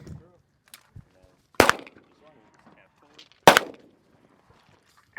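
Two sharp gunshots ring out at an outdoor shooting range, spaced about two seconds apart and fairly close, with quiet gaps and faint background chatter between them.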